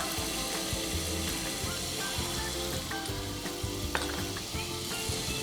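Steady sizzling from a hot pan as spice paste for Indonesian chicken rica-rica is stirred and fried, a continuous crackling hiss with occasional scraping, close and constant throughout.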